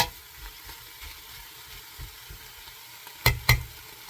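Pork browning over medium heat in a pan for kimchi pork, a soft, low, steady sizzle with two sharp knocks from a utensil close together near the end.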